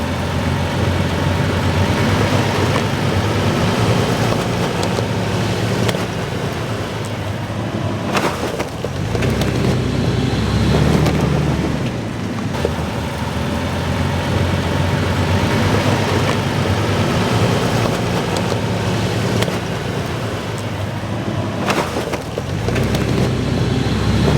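An off-road vehicle's engine drones and rumbles continuously as it drives up onto recovery boards in a budget recovery-board comparison, with brief surges in revving and no talking over it.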